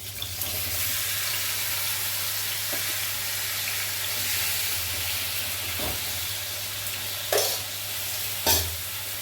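Tomatoes frying in hot oil for a tomato and gooseberry chutney, a steady close sizzle with occasional scrapes and clacks of a stirring spoon against the pan.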